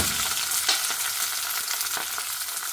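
Cumin, sliced onion and green chilli sizzle steadily in hot oil, a loud, close, continuous frying hiss with a few soft stirring knocks.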